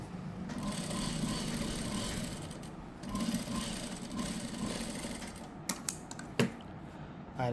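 A sewing machine stitches along the edge of a blouse sleeve, a steady close mechanical whirring in two runs with a brief pause between, ending in a few clicks and knocks as it stops.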